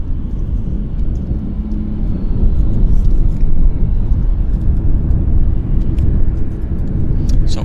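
A WestJet airliner pushes back from the gate at Vancouver's YVR airport. A steady, loud, low engine rumble runs throughout, swelling slightly midway, with no talk.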